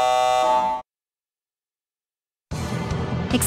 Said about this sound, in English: Warning. Activating alarm system.